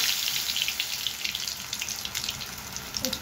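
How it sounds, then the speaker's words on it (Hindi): Lauki (bottle gourd) kofta balls fry in hot oil with a steady, bright, hissing sizzle that holds at an even level throughout, close up and with no talking. "तेल में अच्छे से डालना है, ऐसे एक एक करके आराम से"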